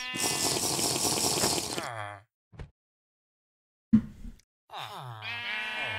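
Sheep bleats from the Minecraft video game come in short bursts with gaps between them, loud and near, with brief clicks and silences in between.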